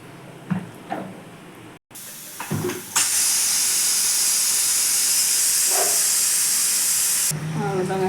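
A pressure cooker holding chicken gravy lets out a loud, steady jet of hissing steam for about four seconds, after a few bumps and clatters from the lid; the hiss then cuts off abruptly.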